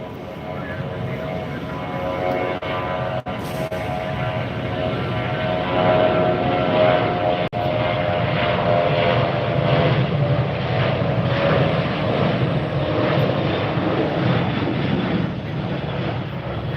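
An American Airlines jet in AirCal retro livery roars steadily through its takeoff at Tampa airport, a loud continuous engine rumble building and holding, with someone talking over it.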